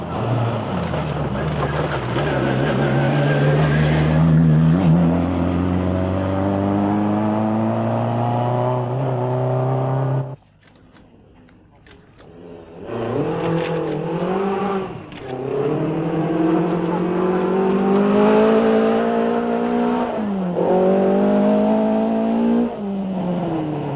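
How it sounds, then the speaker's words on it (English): Toyota rally cars race at the 1985 Ivory Coast Rally, loud engines roaring and shifting pitch as they accelerate, with a brief near-silent gap midway before the engine noise resumes strongly. "Valdegaard is right behind him, and the mood in the Toyota camp is one of supreme confidence"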